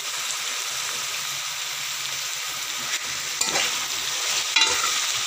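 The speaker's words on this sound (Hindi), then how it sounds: "एक दो मिनट फ्राई करेंगे" Onions fry in a pan for aloo keema, a loud, steady sizzle with occasional scraping as they are stirred, heard close and alone.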